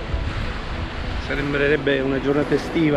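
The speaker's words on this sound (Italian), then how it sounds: "Se non fosse per il vento" Wind gusts buffet the microphone on a beach at Catania, a steady rushing roar under a person speaking.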